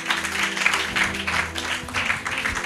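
A church congregation applauds, a steady wash of many clapping hands with a low hum underneath, sustained and fairly loud throughout.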